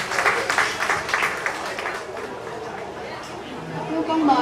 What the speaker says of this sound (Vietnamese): xin chúc tất cả các bạn một tràng pháo tay